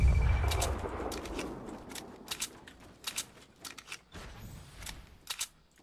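Gunfire in the Fortnite battle royale video game: a heavy burst at the start, then a string of sharp, separate shots cracking out at irregular intervals, fairly close and loud.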